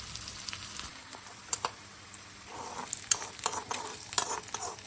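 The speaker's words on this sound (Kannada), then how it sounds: "ಇದನ್ನ ಲೈಟ್ ಆಗಿ ಫ್ರೈ ಮಾಡಿಕೊಂಡು ಆಮೇಲೆ ಸಾಂಬಾರಿಗೆ ಮಿಕ್ಸ್ ಮಾಡ್ಕೊಂಡ್ರೆ ಆಯ್ತು" Mustard seeds, curry leaves and onion frying in oil for a sambar, a quiet steady sizzle with soft crackles and a few sharper pops and stirring scrapes growing busier toward the end.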